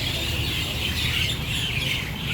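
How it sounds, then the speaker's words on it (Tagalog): A dense, steady chorus of many unseen birds chirping in a tree in Singapore, many small voices overlapping continuously from nearby. "Naririnig nyo po yun. Ang daming ibon."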